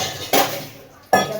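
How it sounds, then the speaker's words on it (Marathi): Pots and dishes being scrubbed in a home kitchen sink: two sharp metallic clanks about a second apart, with quieter rattling in between. "तिथं माझं भांडी घासायचं कार्यक्रम सुरू आहे."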